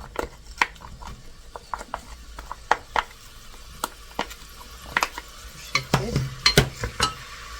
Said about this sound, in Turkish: Önce soğanımı kavuracağım.